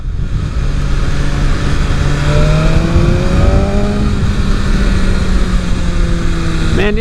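A 2023 BMW S 1000 RR sport bike revs and climbs through the gears on a city street, its engine pitch rising in several steps as it pulls hard, loud and close against steady road and wind noise.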